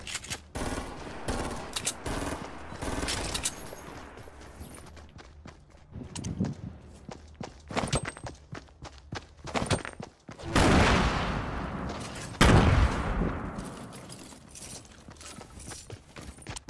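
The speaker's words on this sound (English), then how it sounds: "Shotgun." Shotgun blasts in the video game Fortnite ring out as several sharp, loud bangs spread through the stretch, mixed with clattering footsteps and other in-game mechanical noises.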